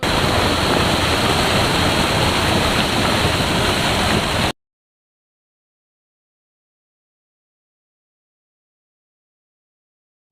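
A small waterfall in a hidden river stream near Chinnapatti, Madurai, gives a steady, close rushing roar for about four and a half seconds, then cuts abruptly to silence.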